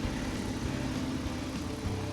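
A car engine runs steadily after Wynn's Stop Smoke is added to the oil, a continuous broadband idle rumble, close and unchanging.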